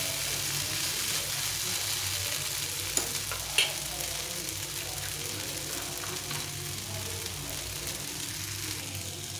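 Vegetables frying in a pan with a little soy sauce while being stirred: a constant soft sizzle with a couple of scraping knocks of the utensil, fairly quiet and close, no talk.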